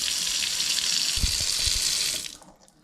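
A newly installed kitchen faucet on a sink runs a steady, close hissing stream of water that shifts in spray pattern, with a few soft knocks, then cuts off and fades to near silence.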